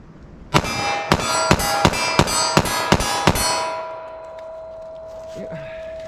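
Eight rapid .45 ACP pistol shots ring out in quick succession, each a sharp loud crack with a metallic ring, followed by a lingering tone and faint background noise.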